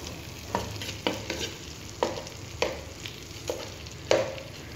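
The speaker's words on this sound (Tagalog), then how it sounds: "Igigisa ko lang yung white onion hanggang mag-translucent siya." White onion sautés in a pan, a soft steady sizzle broken by about seven regular scraping stir strokes, heard close with no talking.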